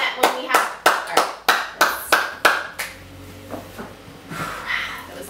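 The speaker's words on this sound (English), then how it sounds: "that was a lot of clapping." Rhythmic clapping from a small group on a talk show set, about a dozen sharp, evenly spaced claps close up, then fading into scattered lighter claps and faint chatter.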